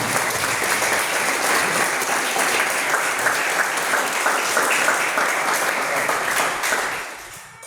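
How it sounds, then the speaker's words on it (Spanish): A church congregation breaks into loud, sustained applause, dense clapping holding steady for several seconds before tapering off at the end. "le damos una fuerte salva de aplausos a aquel que vive"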